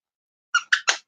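A dog chomps a squeaky toy, producing three quick high-pitched squeaks in a row followed by the start of a fourth, close and clear against silence.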